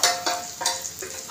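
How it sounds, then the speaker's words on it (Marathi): Okra tipped into steamed potatoes in a pan with kokum and spices: a brief burst of sizzling with a few quick scraping, stirring clatters, close up and without voices. "मी आता ही भेंडी त्याच्यामध्ये घालते"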